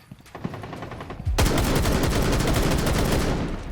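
Rapid automatic gunfire in a shooter video game, with a player firing through an indestructible wall: quieter bursts at first, then loud, sustained rattling shots to the end.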